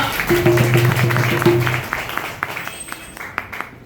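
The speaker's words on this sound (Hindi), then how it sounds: "आइए इस कलाम के लिए ताली मारेंगे।" A church congregation claps during a Hindi worship service, a burst of scattered hand claps that thins out into individual claps, with a sustained musical tone underneath at the start.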